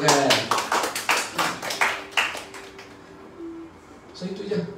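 An audience at a company announcement event breaks into applause, a dense run of rapid claps that thins and fades out, with voices murmuring underneath and a voice rising near the end.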